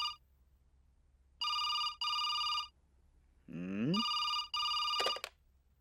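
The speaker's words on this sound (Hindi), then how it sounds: "फोन उठाओ।" An old-style telephone bell rings in repeated double bursts, bright and fairly loud, with a short voice-like sound between the rings and a final clatter.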